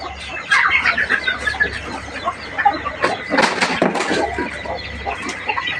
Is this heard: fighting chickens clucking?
yes